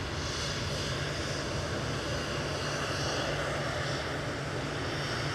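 An EasyJet airliner taking off from Manchester Airport for Paris Charles de Gaulle gives a steady, dense jet roar that holds at an even level across the whole stretch, with no voices over it.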